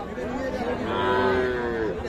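Calves moo at a busy cattle market, one drawn-out bellow rising and falling over about two seconds, with faint crowd chatter behind.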